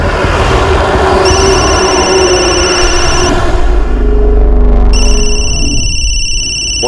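A telephone rings loudly in a tense crime-drama scene. It is a steady electronic trill that pauses briefly and then starts again over a dense, rumbling background score, with no talking during the ring.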